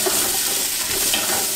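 Onion sautéing in oil in a pan for couscous, a close, steady hiss of frying with a soft bubbling crackle throughout.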